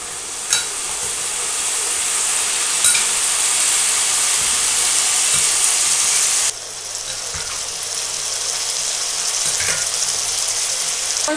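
Young jackfruit and potatoes sauté with spices, giving a continuous loud sizzling hiss with a few faint taps. The hiss drops slightly partway through, then carries on steadily without any talking.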